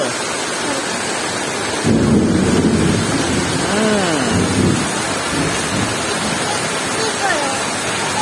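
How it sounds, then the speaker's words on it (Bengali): Heavy rain pours steadily while a deep roll of thunder rumbles across the middle, and a child's and adult's voices are heard faintly under the downpour. "এত সুন্দর বৃষ্টি হচ্ছে"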